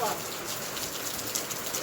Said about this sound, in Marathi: आज पाऊस सुरू झाला गावाकडे